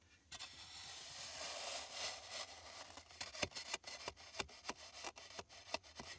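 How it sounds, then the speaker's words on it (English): A shovel scrapes through soil at a Florida dig site, followed by a run of sharp, glassy clicks and taps as the blade strikes a piece of chert stone. The strikes come in an uneven series, close and moderately loud. "So when the shovel hits this right here and it sounds like this, you found a piece of something."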